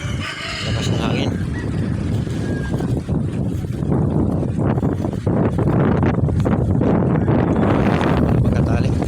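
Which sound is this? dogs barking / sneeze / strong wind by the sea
strong wind by the sea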